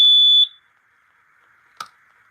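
A single loud, piercing smoke alarm test beep sounds briefly at the start, followed by quiet and a faint click.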